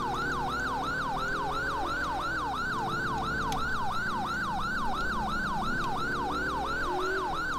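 A video game police car siren in LCPDFR yelps in a fast, steady rising-and-falling cycle during a pursuit, loud and continuous, over a low engine rumble.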